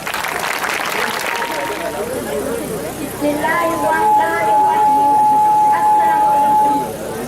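Audience applause welcomes student speaker Anisha Maroof at a youth wing gathering. Broad, steady clapping fills the first few seconds, then continues under a sustained whistle-like tone and crowd noise.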